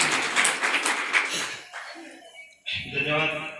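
An audience at an International Women's Day event in Bhattu Kalan gives a speaker a brief round of applause that fades out, followed by a voice speaking close to the microphone.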